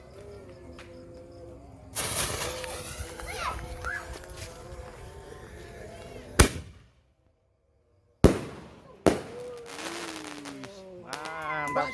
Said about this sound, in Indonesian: siap untuk kita nyalakan double artileri colorful